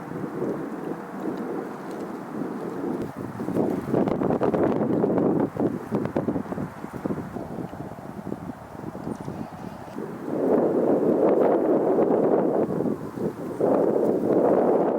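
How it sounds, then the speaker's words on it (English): Wind gusting loudly across the open air beside the Farmington River on a winter day, a steady rushing roar that surges and eases, swelling again near the end, with no voices. "But of course, the wind did pick up,"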